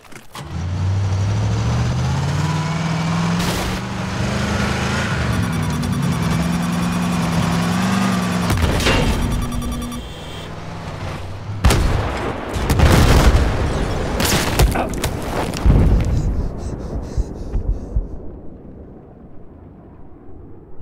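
Battlefield 4 game audio on the Golmud Railway map: a continuous vehicle engine drone, with a rising tonal whine, gives way to several loud, sharp C4 blasts and crashing impacts in the second half, then a quieter rumbling tail.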